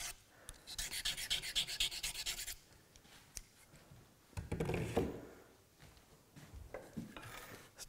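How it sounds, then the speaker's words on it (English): A knife is stroked across coarse, fine and super fine sharpening stones in a woodworking shop, making rhythmic rasping scrapes in quick bursts, with a dense run early on and another cluster midway, close and fairly quiet. "touch up my knife. Coarse, fine and super fine."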